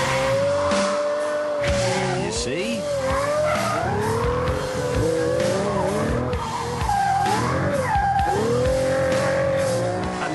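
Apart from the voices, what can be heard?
Pagani Zonda F Roadster braking and cornering on track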